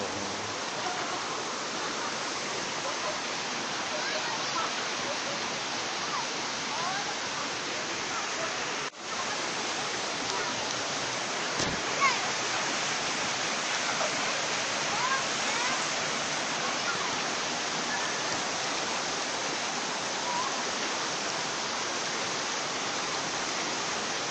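A waterfall near Sakon Nakhon roars as a dense, steady rush of falling water that fills the whole scene, with one brief knock partway through.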